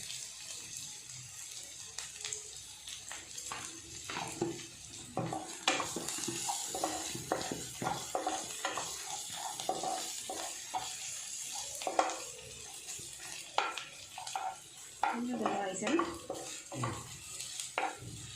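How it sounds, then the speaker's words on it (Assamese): Something frying in a pan on a home stove, a faint sizzle with scattered clinks and scraping of a utensil against the pan, close but quiet, no voices. "অকণমান ভাজি থাকক।"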